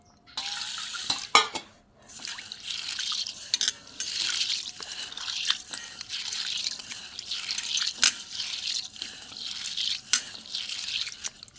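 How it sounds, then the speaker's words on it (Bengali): Mung dal being washed by hand in water in a home kitchen, with swishing, stirring and dripping splashes and a few sharp clinks against the bowl, moderately close and without talk. "ঘরের মুগ ডাল আর একটু ভালো করে ধুইব।"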